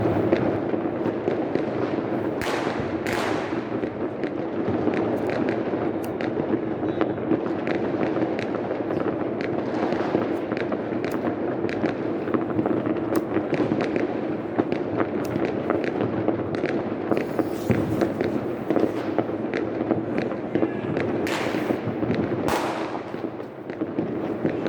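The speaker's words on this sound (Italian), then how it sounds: "Guardate che bello! I fuochi artificio a Porto Sant'Elena!" New Year's fireworks in Quartu Sant'Elena, Sardinia, crackle and boom continuously as a dense, distant barrage of overlapping bangs and pops, with a few sharper nearby blasts standing out.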